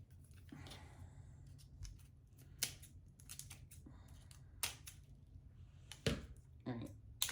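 Dull scissors snipping paper while making a fake Christmas cake: a series of sharp, irregular crisp cuts and clicks, close and fairly quiet, with a low background hum.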